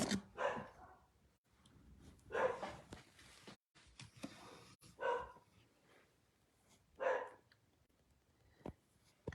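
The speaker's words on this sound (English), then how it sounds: "And the dogs are barking." Several dogs bark in short bursts at a distance during a home craft stamping session, with a few yelps spread across the stretch and quiet room tone in between.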